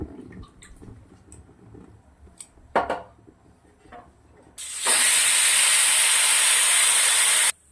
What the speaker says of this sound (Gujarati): બે સીટી ભાતની પડી ગઈ છે